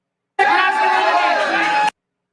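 A bar crowd lets out a short, loud burst of cheering and shouting lasting under two seconds, starting and stopping abruptly with quiet on either side.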